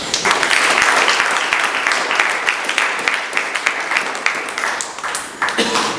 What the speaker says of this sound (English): I would like us to kindly clap again for our fantastic panelists.